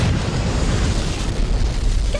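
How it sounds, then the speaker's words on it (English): Video game explosions from Borderlands 2, a dense rumbling boom filling the short moment with heavy low-end roar and crackling debris. "Explosions?!"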